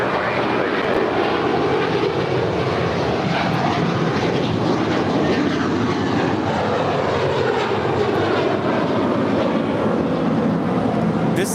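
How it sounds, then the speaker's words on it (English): An American Airlines Airbus A321 jet taking off from a runway at LAX, a loud, continuous engine roar with wind buffeting that holds steady throughout, no voices. "This is American Airlines 669 departing to Chicago. It's an A321."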